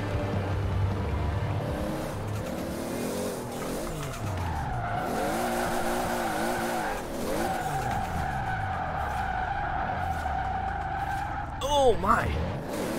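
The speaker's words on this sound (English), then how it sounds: "It still just wants to break the tires loose." A tuned 1200-horsepower Toyota Supra drifting in Forza Horizon 4, tires squealing and scrubbing under a steady engine drone, with a rising screech near the end, all under continuous commentary.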